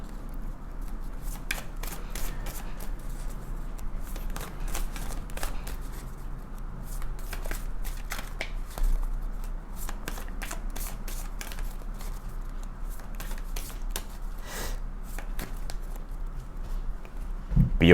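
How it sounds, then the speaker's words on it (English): Oracle cards are shuffled by hand in a quiet room, producing repeated soft, crisp riffles and flicks in an uneven rhythm. "let's pull your oracle cards and then we will clarify this and get more into it"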